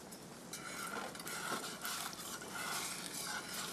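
Eggs cooking in a pan are stirred with a utensil, making soft scraping and clinking against the pan over a faint, continuous sizzle, close by and quiet, with no talking.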